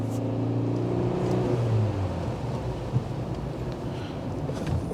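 A 1.4-litre Vauxhall Corsa engine pulls hard on a test drive, a steady droning engine note with rising harmonics in the first two seconds, then a sustained cabin rumble with road and wind noise, loud and close throughout.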